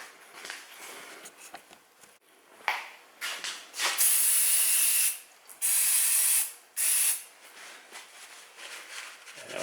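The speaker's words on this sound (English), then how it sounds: "Just clean it off with some brake clean and a clean cloth." Brake cleaner sprayed onto a brake pad from a Mazda 3 2.3 during rotor replacement, three loud close hissing bursts of a second or so each, preceded by light handling clicks.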